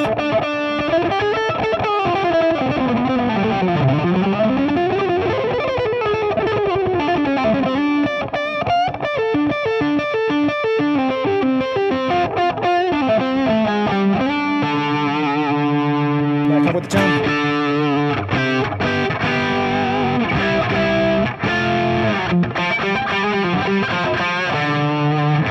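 Electric guitar on the neck pickup with the tone knob turned down, a C R Alsip guitar, giving a warm, rounded, dark tone playing melodic lines and chords continuously, fairly loud and close, with no talking.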